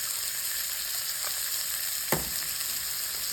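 Ground beef and an egg sizzle on a flat griddle, a constant bright frying hiss with a couple of brief spatula taps.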